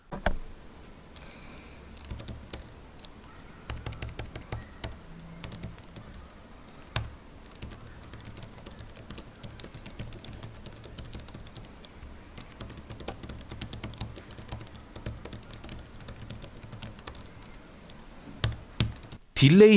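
Steady typing on an iPad mini 6 keyboard case, soft quiet clicks in an irregular run of keystrokes, close by, with brief pauses between bursts.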